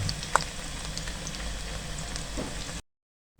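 Garlic ginger paste and onions sizzle in a hot pan, a dense, steady crackling hiss that carries on evenly before cutting off abruptly.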